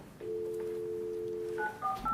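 Telephone touch-tone dialing in a courtroom as a call is placed to a remote participant: a steady dual tone held for over a second, then a quick run of short, higher beeps, clear and close with no talk.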